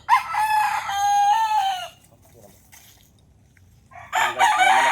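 A rooster crows loudly and close by, then quiet for a couple of seconds with faint rustling, then another crow begins.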